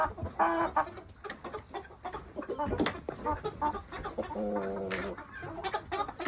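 Young pure Shamo pullets clucking and calling close by on a UK farm, a run of short, uneven clucks and chatter with a brief word spoken among them.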